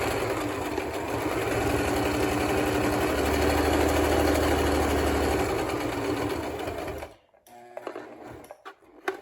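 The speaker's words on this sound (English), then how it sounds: "I'm just sewing them in order and keeping them connected with a little piece of thread." A sewing machine stitches fabric pieces for a festive banner, its needle chattering in a fast, even rhythm nearby for about seven seconds before stopping, followed by a few soft handling clicks.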